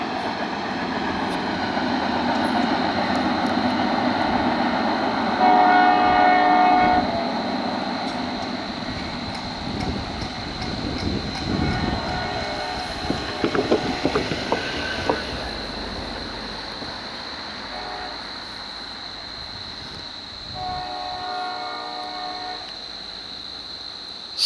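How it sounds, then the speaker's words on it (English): Horn of an EMD GP40-2 locomotive leading a Norfolk Southern welded rail train, sounded in two long blasts near the start and end over the rumble and clatter of passing rail cars, fairly close. "Awesome horn on that GP40-2."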